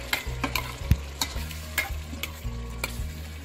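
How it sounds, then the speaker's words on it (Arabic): Boiled lamb pieces are stirred in a hot pan with ginger, a coriander-garlic mix and spices for a lamb curry: close, repeated spoon scrapes and thumps over a low, steady sizzle. "ضلنا عم نقلب باللحمة شوي"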